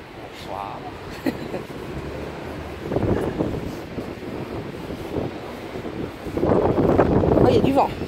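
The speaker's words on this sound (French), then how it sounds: "Oh, il y a du vent." Blustery wind rumbles against the microphone throughout, swelling louder toward the end, with a voice talking faintly underneath.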